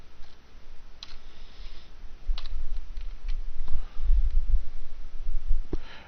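Typing on a computer keyboard: irregular, hesitant key clicks tapped one by one at close range, alone, with a low hum beneath.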